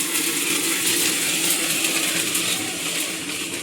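Puffed rice being roasted in hot sand at home in a village kitchen: a dense, steady rattling and crackling hiss of grains tumbling in sand, close and continuous.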